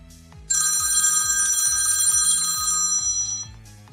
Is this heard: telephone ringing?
yes